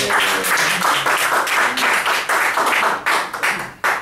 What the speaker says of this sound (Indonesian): kasih aplaus sama Pak